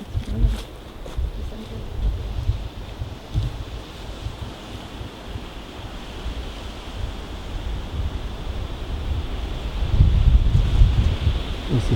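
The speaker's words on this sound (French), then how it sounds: "C'est quoi ce vent là?" Strong wind buffets the microphone in uneven gusts, rumbling low and swelling louder toward the end, with no one speaking.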